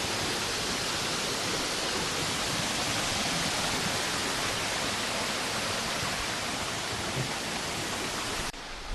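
A waterfall in New Zealand roars in a steady, dense wash of rushing water that stays loud and unbroken throughout, with no voices.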